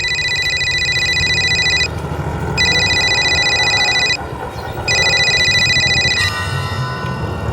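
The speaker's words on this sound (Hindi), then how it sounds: "फिर एकदम से अचानक मेरे पास निहारिका का फोन आ गया।" A telephone rings in three loud electronic bursts with short gaps between them, heard alone with a low background hum and no talk.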